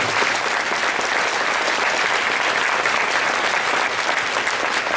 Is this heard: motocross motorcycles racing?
no